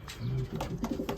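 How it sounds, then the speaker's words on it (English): Young racing pigeons coo outside their loft, a few soft low cooing calls close by with light rustling, no talk. "Youngbirds outside, as you can see."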